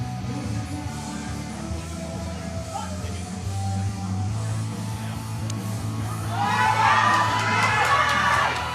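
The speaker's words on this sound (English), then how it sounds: "give her a round of applause" A crowd murmurs in the background, then breaks into loud cheering and clapping toward the end, at a powerlifting competition after a 220-kilo lift.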